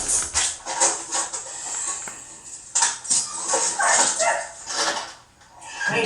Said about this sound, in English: Them dogs probably crying for happiness.